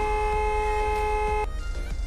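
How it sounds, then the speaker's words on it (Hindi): A vehicle horn in Garena Free Fire blares as a steady, loud harmonic tone for about a second and a half, then cuts off abruptly over a low engine rumble. "अभी यहाँ पर आपको मैं एक दो हॉर्न बजा के सुना देता हूँ"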